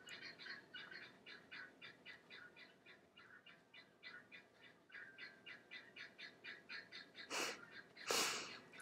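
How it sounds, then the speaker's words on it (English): Birds sing loudly outdoors in a fast, steady series of repeated chirping notes that carries on throughout, with a couple of louder rustling bursts near the end. "Loudest birds in the world."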